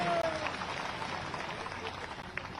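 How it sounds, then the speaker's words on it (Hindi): Applause from a crowd welcoming a guest at a political rally, a dense, steady patter of many hands clapping at moderate distance, with a voice over a loudspeaker at the start. "इनका तो जोरदार स्वागत करो ताली बजाए"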